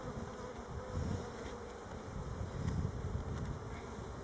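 Honeybees buzzing around an opened hive during an early spring inspection, a steady dense hum with individual bees swelling louder as they pass close.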